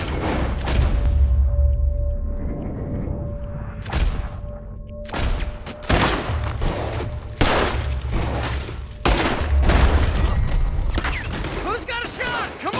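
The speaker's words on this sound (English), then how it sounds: "Shoot that man!" Shootout in Red Dead Redemption 2 with repeated loud gunshots and volleys cracking over a low rumble, bursts spaced irregularly across the scene, with shouting voices mixed in.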